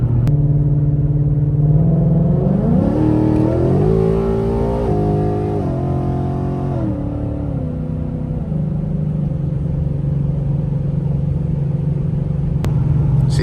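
A modified 5.0 car with a 10-speed transmission pulls hard, its engine climbing through stepped gear changes before easing off into a steady drone, heard loudly from inside the car.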